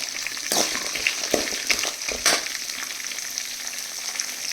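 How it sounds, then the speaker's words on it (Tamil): Onion and chana dal frying in a pan for leftover rice puzhi sapadu, a steady close sizzle with a few louder scraping stirs and bursts of crackle along the way. "வதங்கட்டும் நல்லா வெங்காயம்"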